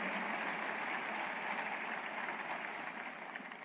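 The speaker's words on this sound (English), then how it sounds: "please give her another round of applause" Steady audience applause for Dua Lipa after a speech, a dense, even wash of clapping hands heard from a distance that fades slightly toward the end.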